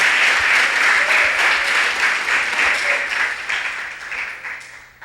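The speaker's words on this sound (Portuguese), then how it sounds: "dê um aplauso ao Senhor" A church congregation at a healing and deliverance service claps together in steady, dense applause, loud and close at first and easing slightly toward the end.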